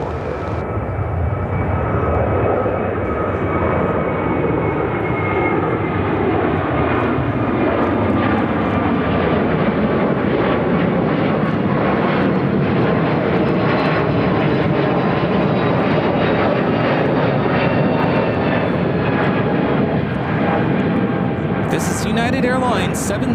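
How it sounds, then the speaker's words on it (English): United Airlines A321neo taking off from Chicago O'Hare, bound for Seattle: a loud, sustained jet engine roar with a falling whine as the aircraft climbs away, and people talk under it. "1705 taking off to Seattle on a 1-year-old A321 Neo"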